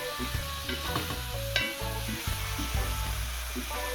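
Steady sizzling and spattering of salted butter frying in a pot of okra and saltfish, with a few clinks and stirring sounds, no voices.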